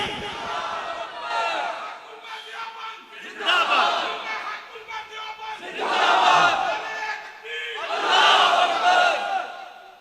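A large religious gathering answers a Takbir call with repeated loud crowd shouts of Allahu Akbar, four surging waves of massed voices separated by short gaps of murmuring.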